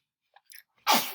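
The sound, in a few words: sneeze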